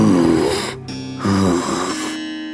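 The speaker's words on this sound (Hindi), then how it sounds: "तभी उन दोनों को किसी के सांस लेने की भयानक आवाज सुनाई दी।" Frightening heavy breathing in a Hindi ghost story: two slow, rasping, snore-like breaths, loud and close, with a brief pause between them and no talking.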